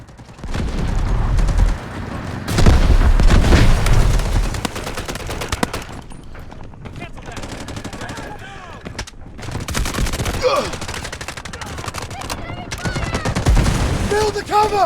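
Bursts of RM277 rifle fire in the shooter game Delta Force, loud and close, in rapid volleys with quieter gaps between, plus distant shots and a brief shouted voice.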